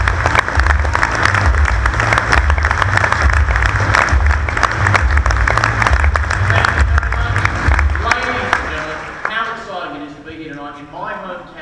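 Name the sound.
theatre audience applause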